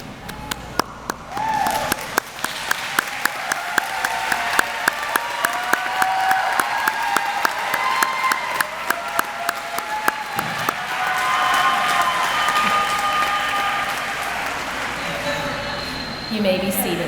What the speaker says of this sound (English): applaud those people who were there to support